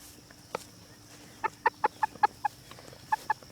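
A chicken on a poultry farm clucks in a run of short, sharp calls while being caught, about ten close, fairly loud clucks spaced irregularly with quiet gaps between them.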